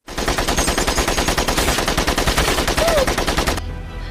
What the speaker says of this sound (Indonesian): di atas jembatan mereka juga kini terlibat baku tembak